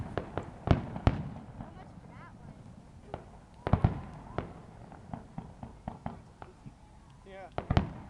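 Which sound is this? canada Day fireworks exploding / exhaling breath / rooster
canada Day fireworks exploding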